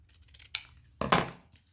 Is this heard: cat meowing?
no